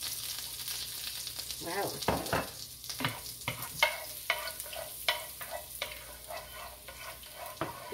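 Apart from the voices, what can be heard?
garlic frying and being stirred in a wok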